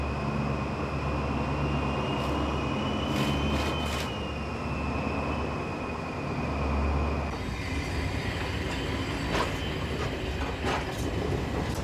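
The Orient Express train rumbles steadily along the rails in France with a constant low roar, a faint high squeal from the wheels, and sharp clacks toward the end.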